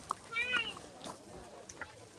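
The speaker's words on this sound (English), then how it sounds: "Cat seems to be the most interesting thing here at the moment" A cat gives a faint meow at a gathering, with a few soft cat calls among quiet background voices and room noise.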